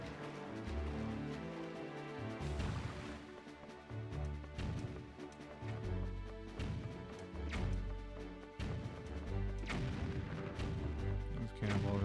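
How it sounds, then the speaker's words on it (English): Cannonballs firing and exploding nearby in The Legend of Zelda: The Wind Waker HD, a string of booming blasts and crashes over layered game music and effects, spaced every second or two. "Cannonballs are getting pretty darn close."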